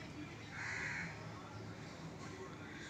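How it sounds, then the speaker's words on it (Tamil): A single house crow caws once, somewhat distant, over a steady background hiss of outdoor ambience. "காக்கா கத்திக்கிட்டே இருக்குது"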